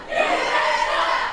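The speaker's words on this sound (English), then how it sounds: "the crowd chanting while everybody knows that Jordan Davis messed up" A wrestling crowd at a WCWO Friday Night Live show roars and chants in a dense, sustained mass of voices, loud and continuous throughout.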